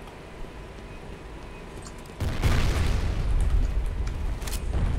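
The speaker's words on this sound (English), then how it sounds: "My own grenade just saved me a lot." A grenade goes off in the shooter video game F.E.A.R. Combat, bursting into a sudden loud boom. A rumbling, crackling roar follows and lingers over quieter game ambience.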